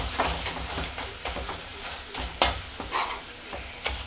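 Tomatoes cooking for a Kerala-style egg roast are mashed and stirred in a sizzling pan: a constant hiss with a few sharp spoon knocks and scrapes against the pan, close and clear.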